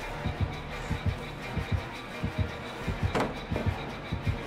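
A heartbeat warning in a video game thumps in steady paired beats, close and prominent over a low background hum, with one brief louder knock partway through and no speech.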